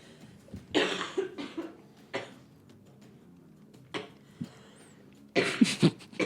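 A voice imitates rough, raspy coughing in several bursts, separated by quiet gaps, with a final cluster of harsh coughs at the end.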